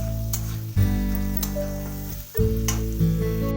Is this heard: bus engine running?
no